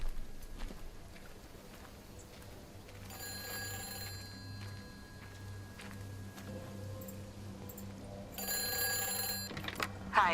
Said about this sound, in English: And the phone rings.